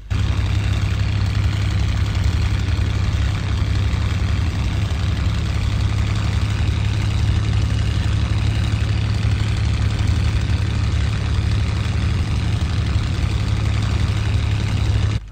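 Piston engine of a Second World War fighter in IL-2 Cliffs of Dover running steadily at low power while taxiing, a continuous, loud, even drone with a strong low hum and little change in throttle.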